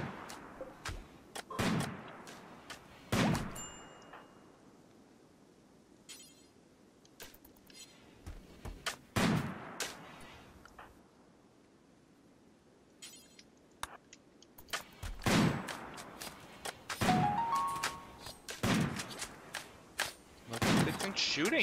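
Gunfire in the video game Rimworld comes as sharp, separate shots and short bursts spread irregularly through the stretch. Quieter game ambience fills the gaps between them.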